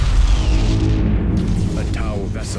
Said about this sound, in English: gorgeous but short-lived explosions and the satisfying bassy boom that accompanies it